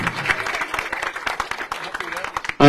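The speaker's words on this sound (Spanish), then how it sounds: "yo quiero que se levante y le demos un gran aplauso" An audience at an agricultural machinery handover event gives scattered, uneven applause, with individual claps fairly close and distinct, tapering off before a voice abruptly cuts in at the very end.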